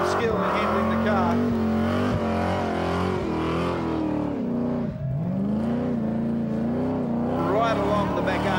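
A car does burnout donuts on the pad at the Summernats burnout eliminations, its engine revving hard and loud with wavering pitch, a brief dip midway, while an announcer talks over it.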